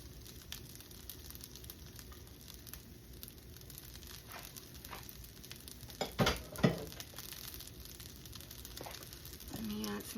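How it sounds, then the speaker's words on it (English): Pork with its juices and eggs frying in a pan for pork fried rice, a steady low sizzle with a few sharper stirring scrapes in the middle and near the end, fairly quiet throughout. "I'm gonna add our pork with all its juices. And I'm gonna add our eggs as well."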